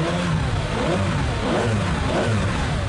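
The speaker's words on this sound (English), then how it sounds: "Because to listen to that V12 in the back" A Ferrari Enzo's rear-mounted V12 revs hard, a loud sustained engine roar rising and falling through the whole stretch with no talk over it.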